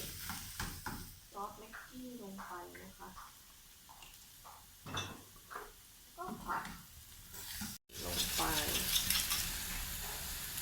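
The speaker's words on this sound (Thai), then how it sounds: "ลงไปผัดกับเนย" Spinach and egg stir-fried in butter in a pan, a soft steady sizzle with stirring scrapes under someone talking, the frying rising louder near the end.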